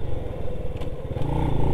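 Small Honda Biz C100 motorcycle engine putting along close by, a low, rapid pulsing idle with light mechanical clatter, brief and steady, no voices.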